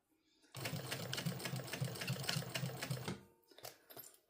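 A sewing machine stitching a crossbody bag with a zipper, a rapid rhythmic mechanical chatter running for about two and a half seconds, then stopping, followed by a couple of faint handling sounds.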